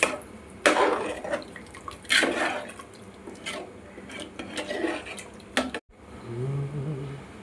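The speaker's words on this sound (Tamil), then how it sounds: "ஒரு லிட்டர் அளவுக்கு தண்ணீர் ஊற்றிக்கலாம். நல்லா கிளறி விடுங்க" Water poured into a pot of drumstick and brinjal sambar and stirred, giving close splashing and sloshing with scraping bursts, then a brief silence and a low simmering hum.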